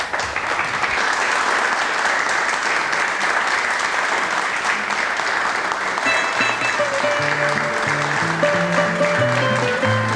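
Loud, steady audience applause for a fado singer at a 1994 Portuguese television concert, continuous clapping throughout, with instrumental music notes starting to rise beneath it toward the end.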